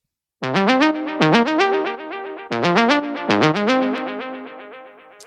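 Punchy chill house synth lead melody, centered in the mix, with quick repeated notes in two matching phrases, full and close, playing alone without any talking.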